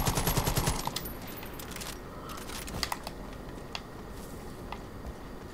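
Gunfire in the shooter game Far Cry 5: a fast, dense burst of automatic fire at the start, then scattered single shots and faint distant pops over a steady background din.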